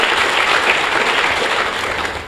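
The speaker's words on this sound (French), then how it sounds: "Que je vous demande d'applaudir encore une fois." Audience applause at a student integration event at the Université Numérique in Thiès, steady and fairly loud throughout, dense clapping from a sizable crowd that fades slightly at the end.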